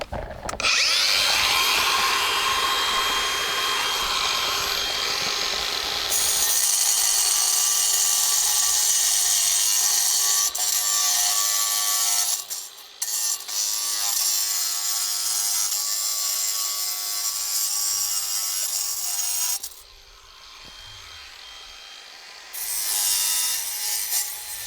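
A saw and rotary tool cut and trim the stone-look pieces of a garden railway tunnel portal, giving a loud continuous grinding, rasping buzz up close, with brief pauses and shifts in pitch as the cut changes.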